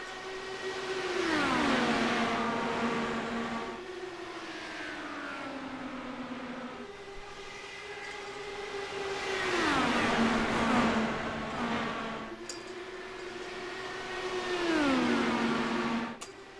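IndyCar race cars in a racing video game roaring past in repeated waves, each engine note climbing then sliding down as cars pass at steady intervals, loud and without talk.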